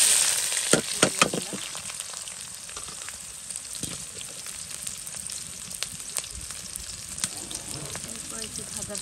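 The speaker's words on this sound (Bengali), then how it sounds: "তেলটা গরম হয়ে গেছে, এখন হচ্ছে আমি এলাচ দারচিনি দিয়ে দিছি।" Whole cardamom and cinnamon sizzle in hot oil, starting with sharp crackles and spits as the spices hit the pan, then settling into a steady close frying hiss.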